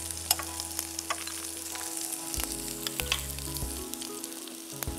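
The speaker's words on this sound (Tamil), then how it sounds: "இப்போ அடுத்து அதில் பூண்டு பல்லு சேர்த்துக்கோங்க" Garlic cloves frying with chilies in hot oil make a loud, close, continuous sizzle, crackling with occasional sharp pops and stirring scrapes.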